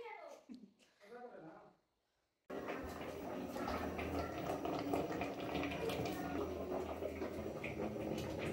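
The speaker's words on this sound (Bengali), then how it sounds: "আর ওই 2টো মাছ এখন কেটে পরিষ্কার করে ধুয়ে নিই" Tap water runs steadily into a sink while freshly cut fish are washed, a close continuous splashing that starts abruptly after someone talks briefly.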